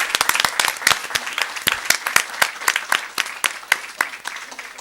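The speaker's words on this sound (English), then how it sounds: "how about one more round of applause, please, for our Whitney High School students?" A school board meeting audience applauds Whitney High School students with steady, lively clapping from many hands that carries on throughout.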